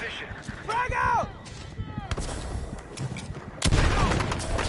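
A frag grenade blast and bursts of gunfire in the video game Battlefield 6, with sharp booms and a heavy explosion near the end, mixed with a player's shouted voice and in-game chatter.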